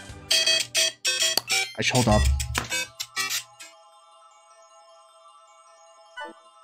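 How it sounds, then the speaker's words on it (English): An incoming phone call rings during a Kirby's Return to Dreamland Deluxe game stream: someone talks at first, then a steady, sustained electronic ringtone rings on its own at moderate volume. "It was just a stupid phone call."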